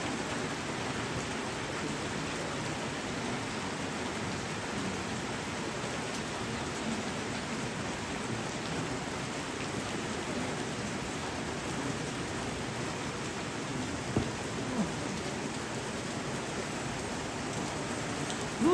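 Steady rain falls continuously as a soft, even hiss throughout, faint and unbroken, with no voices heard.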